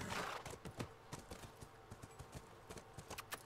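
Horse hooves clip-clop at a steady walking pace in The Last of Us, close and fairly quiet, with a soft tonal background and no talking.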